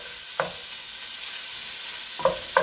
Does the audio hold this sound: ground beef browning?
yes